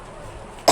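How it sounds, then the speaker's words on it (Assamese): A single short, loud cough from a person with an ongoing cough bursts out near the end after a quiet stretch of room noise. "ইমান কাহ হৈছে নহয়।"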